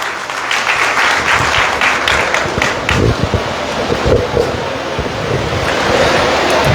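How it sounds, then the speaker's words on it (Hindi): A crowd claps hands in a dense, loud, continuous wash at a birth-centenary religious festival in Faridabad, with gusty wind-like noise mixed through the applause. "ताली बजाओ सब लोग।"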